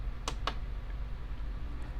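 Two quick plastic clicks from the button on an Emerson SmartSet alarm clock as the radio is switched on, close and distinct over a low steady hum.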